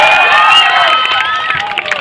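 A crowd cheers and shouts loudly at the prize ceremony of a local football final in Lalmatia, with a dense, sustained roar and a few higher voices poking through over two seconds.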